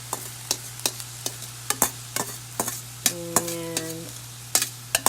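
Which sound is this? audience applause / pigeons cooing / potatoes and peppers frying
potatoes and peppers frying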